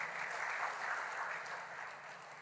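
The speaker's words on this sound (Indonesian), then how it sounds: "Saya minta tepuk tangan untuk PPID seluruhnya." Distant, faint applause from an audience at a public information openness awards ceremony in West Nusa Tenggara, a steady wash of clapping for the information officers team that fades slightly toward the end.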